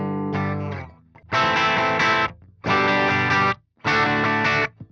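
Guitar runs through the clean channel of the Bogren Digital MLC S_Zero amp sim, playing a brief picked phrase and then three strummed chord bursts, each ringing about a second with short gaps between, loud and alone.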